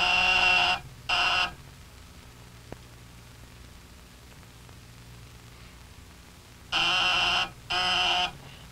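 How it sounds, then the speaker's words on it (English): A door buzzer sounds in two pairs of harsh, loud electric buzzes separated by several seconds of quiet room noise. "shall we ring the buzzer?"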